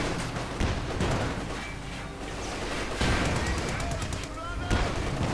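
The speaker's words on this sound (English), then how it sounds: "He has like 4 Obersoldatens with light machine guns." Light machine gun fire from infantry in the strategy game Company of Heroes 2, rapid bursts and battle clatter mixed with distant explosions, continuous and busy under game noise.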